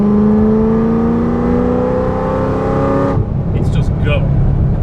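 A 2013 Corvette ZR1 60th Anniversary engine pulls hard in fourth gear from about 2600 RPM, a loud steady rising drone that cuts off abruptly near the three-second mark, leaving road noise and a voice.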